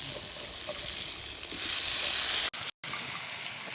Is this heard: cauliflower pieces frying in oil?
yes